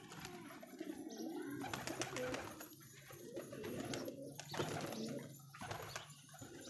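Pigeons coo repeatedly in soft, throaty calls, several birds nearby, with faint background rustling and no clear talking.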